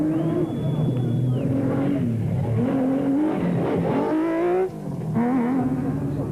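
A Nissan hardbody super truck's V6 engine revs hard at peak RPM as an off-road desert race starts, loud and continuous with rising and falling harmonic sweeps; a short high whistle sits on top early on.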